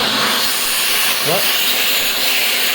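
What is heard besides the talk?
Shark Rotator vacuum cleaner running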